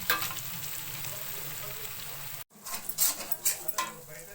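Tomatoes softening as they fry in a pan for tomato rice, a continuous close sizzle with a brief cut midway, followed by a few louder clinks and stirring sounds.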